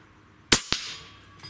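A JTS .30 caliber Airacuda MAX air rifle fires once with a sharp crack, followed almost immediately by a second snap of impact, then a quiet fading tail.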